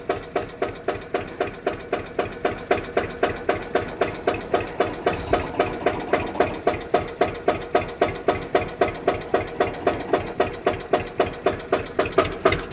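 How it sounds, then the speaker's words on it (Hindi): An Eicher 241 tractor, fully modified, creeps along in first gear at a slow race pace, its engine thumping in a steady, rapid rhythmic chug, close and even throughout. "पहला गेयर लगा लिया जी, बिल्कुल स्लो रेस में ये जा रहा जी"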